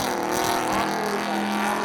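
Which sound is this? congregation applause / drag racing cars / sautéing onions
drag racing cars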